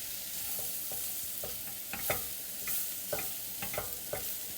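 Chopped mushrooms sizzle in a pan while being stirred, a soft continuous frying hiss broken by several light scraping strokes of the utensil at irregular intervals; no one speaks.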